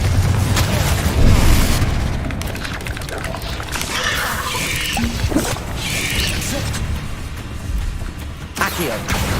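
Confringo blasting curses explode repeatedly in the Hogwarts Legacy video game, with booming bursts and crashing impacts over a continuous loud battle din, and people talk over the action.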